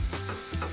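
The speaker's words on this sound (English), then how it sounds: "I just fried my meat for 7 minutes." Meat frying in a hot pan, a steady close sizzle with soft stirring thumps.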